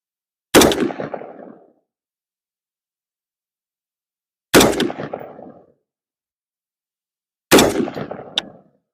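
Three loud, sharp gunshots from a firearm fitted with a Vector Optics Paragon 4x prism scope during an outdoor torture test. Each blast is spaced several seconds apart and trails off in a short echoing decay, with silence between.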